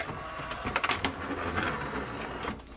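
The internal mechanism of a Sony MDP 333 laser disc player under repair moves and whirs up close, with short motor buzzes and a few mechanical clicks over a steady hum.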